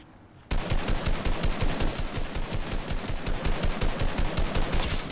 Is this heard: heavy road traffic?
no